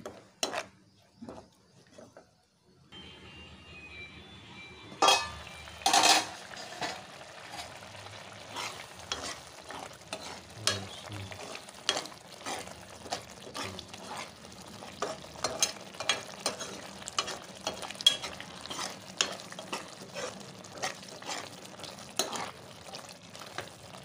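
Amaranth leaves frying over a medium flame in a covered pan, giving a steady soft sizzle with scattered clicks and light clatter of pot and lid throughout.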